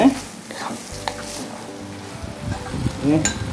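Rice vermicelli with beef is tossed in a pan with ABC sweet soy sauce, a steady soft sizzle with stirring and scraping, and a faint voice murmurs in the background.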